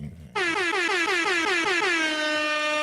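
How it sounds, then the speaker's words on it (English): A single loud air horn blast starts abruptly and holds steady for a couple of seconds, with a slightly wavering pitch before it settles. "You can do your air horn if you want to."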